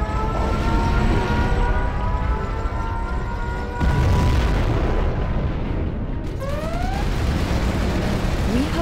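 Rumbling, roaring blasts from a nuclear missile launch and explosion in Command & Conquer Generals Zero Hour, loud and dense, with a sharp new burst partway through and rising siren-like tones over the battle din.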